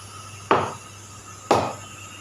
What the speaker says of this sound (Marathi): आता टायर बसवलेला आहे मशीनवरती.